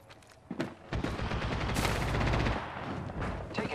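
Enemy gunfire in the shooter game Apex Legends, a dense burst of rapid shots rattling at close range, building into a sustained volley before easing off, with no talk over it.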